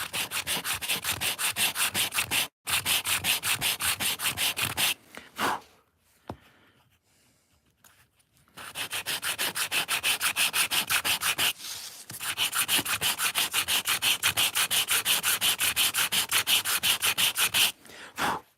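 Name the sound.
hand sanding wood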